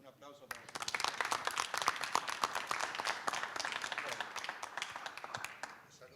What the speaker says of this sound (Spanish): Le pido un aplauso para usted.